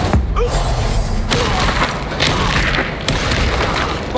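A fire spell cast over and over in Hogwarts Legacy. It gives dense, booming bursts and thuds that run continuously and loudly, layered with combat effects and no gaps between them.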